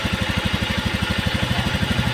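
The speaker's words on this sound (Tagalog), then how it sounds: "pugak-pugak yung andan ng makina, rough idling ano po, is sira ang TPS" A Honda Beat FI scooter with a faulty TPS idles roughly nearby, its engine thumping in a fast, uneven pulsing rhythm under a constant loud mechanical rattle, with no talking.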